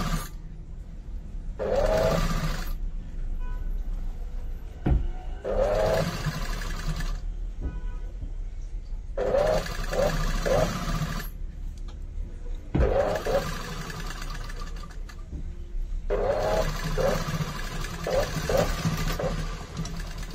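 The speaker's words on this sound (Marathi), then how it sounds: "तर ही शिलाई आपल्याला टाकून घ्यायची" A sewing machine stitches a katori blouse in several runs of steady whirring, each lasting a few seconds, with short pauses between them. The sound is close and loud, and nobody speaks.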